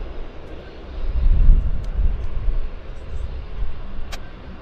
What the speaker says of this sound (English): So there is an airplane setting up on approach.